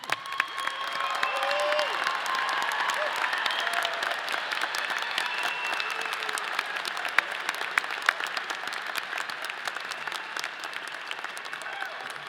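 A college commencement audience applauds the summa cum laude, magna cum laude and honors program graduates. The clapping is steady and sustained throughout, a broad wash of many hands in a large hall with a few sharper claps standing out.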